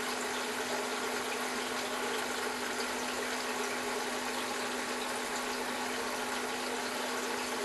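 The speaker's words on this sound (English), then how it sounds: "You can see the water going into it." Water flowing into an external fish tank filter with three media trays, a steady, quiet trickling hiss with a faint constant hum, continuous and unbroken throughout.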